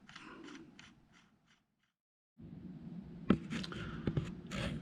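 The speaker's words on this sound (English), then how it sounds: "then you run your nut that does come in the kit on there, and you can start cranking down on it" A kit nut is cranked down onto the crankshaft of a Dart 427 engine bottom end, heard as close ratcheting clicks and metallic taps in short bursts with a quiet gap between them.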